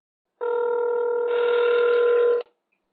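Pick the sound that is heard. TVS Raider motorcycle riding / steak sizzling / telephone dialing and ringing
telephone dialing and ringing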